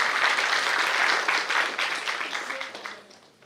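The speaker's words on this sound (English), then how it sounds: "So please give big applause for Madam." An audience at an animal-handling lecture gives a burst of applause, dense clapping that starts strong and gradually fades out over a few seconds.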